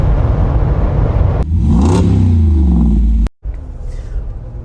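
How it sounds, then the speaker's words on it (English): A Mojito-colored Jeep Wrangler Rubicon grinds along a rough country road off-road with a loud, close engine rumble and a rising revving whine, broken by abrupt cuts. "I'm off-roading on a rough country road, taking a shortcut up to AEV because I'm going to trade in this Mojito Rubicon"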